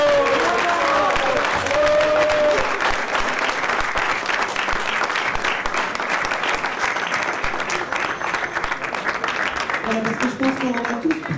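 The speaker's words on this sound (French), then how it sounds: "Moi je vous fais un tonnerre d'applaudissements pour Théo qui a organisé cette journée." A lively audience at a food competition fair in Falicon breaks into sustained, dense applause that stays loud throughout, with a few voices cheering and talking over the clapping.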